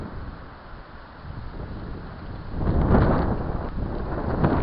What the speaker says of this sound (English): You can hear it. You can hear the wind.